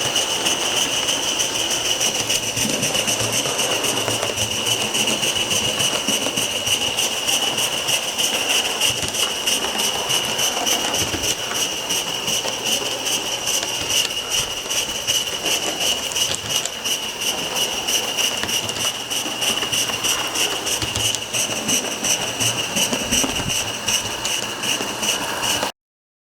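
A model steam engine running under its own power at a steam-up gathering, giving a steady, rapid mechanical clatter with a constant hiss and high ringing tone that continue evenly for the whole stretch.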